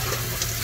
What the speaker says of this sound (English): we're putting in lukewarm water to wake the microbes up